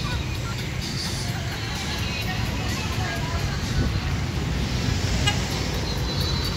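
Busy city street traffic on the road toward Quiapo and Buendia in Manila, with a steady roar of passing cars and trucks and scattered horn toots, while voices murmur nearby.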